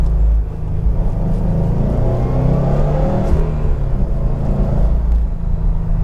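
A 2018 Subaru WRX STI engine rumbles and rises in pitch through a series of downshift blips, loud and close from inside the cabin, with a steady low drone underneath.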